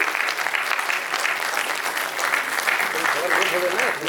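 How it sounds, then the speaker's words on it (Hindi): Audience applause at an agricultural science awards event in Uttar Pradesh, a sustained, loud, dense clapping from a crowd lasting throughout with no break. "तो एक बार आप सभी की तरफ से जोरदार तालियां तो बनती है इनके प्रोत्साहन में।"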